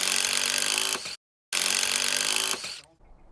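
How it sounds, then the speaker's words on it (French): Powerful power drill boring a pilot hole into a wooden deck joist: two loud, steady whining bursts of about a second each, split by a short silence, the second fading into quiet rustling. "Il est nécessaire de forer un avant-trou avant de procéder au vissage avec un matériel"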